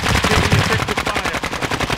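Loud, rapid automatic gunfire in Warzone 2.0, a close, steady stream of evenly spaced shots that lasts the full two seconds with no pause.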